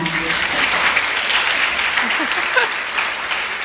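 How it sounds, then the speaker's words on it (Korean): Wedding guests clap together in steady, dense applause that fills the room at a moderate level, with faint voices mixed in. "두 사람의 행복한 안남을 응원하는 박수 부탁드립니다."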